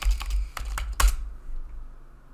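Typing on a computer keyboard, a quick close run of several crisp key clicks ending with a firmer keystroke, then quiet.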